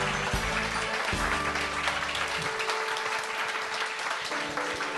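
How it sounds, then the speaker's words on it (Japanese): Audience applause fills the hall at the close of a Noitamina anime lineup presentation, a loud, steady wash of many hands clapping throughout, with low music or tones underneath at the start. "ご登壇の皆様にもう一度大きな拍手をお送りください。"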